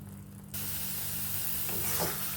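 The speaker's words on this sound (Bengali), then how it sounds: "নেড়ে শুকনো শুকনো মতো করে নেব" Banana stem mash being stirred in a pan to dry it out, a steady hissing sizzle that starts abruptly and continues close and even, with a brief scraping rustle near the end.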